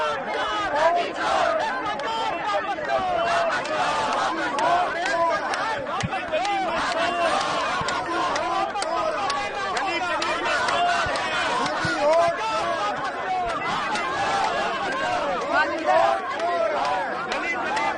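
A crowd of protesting opposition MPs on a march in Delhi shouts slogans together, a dense, continuous babble of many raised voices filling the space with no pauses.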